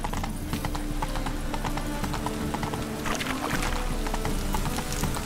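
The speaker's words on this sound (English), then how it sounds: "Come on, Roach." A horse's hooves clip-clop steadily in The Witcher 3, a brisk rhythmic trot of hoofbeats close up with a constant ambient bed underneath.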